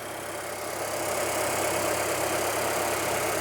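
A 2023 Nissan Sentra SV engine idles steadily, a smooth low hum with a faint mechanical whir, close and even, with no talking.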